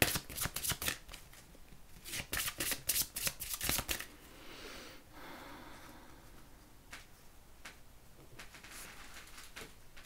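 A deck of transformation oracle cards is handled and riffled, with several quick, crisp flurries of shuffling up close, then softer sliding and tapping of cards. No one speaks.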